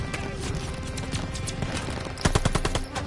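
Machine gun fire in the Call of Duty Vanguard video game, with rapid bursts crackling through a busy battle mix and a tight, louder string of shots near the end.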